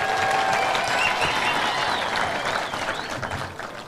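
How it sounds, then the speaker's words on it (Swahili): A political rally crowd applauds a politician in a loud, dense wash of clapping that holds steady and then gradually thins toward the end. "pigieni Kimani Ichung'wah makofi"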